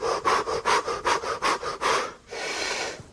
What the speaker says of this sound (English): It's a big inhalation in with a bunch of inhalation exhalations like you're panting